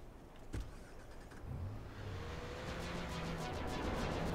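A small car in Watch Dogs starting and pulling away, a faint click followed by a low engine rumble that builds into a steady driving drone, quiet and alone.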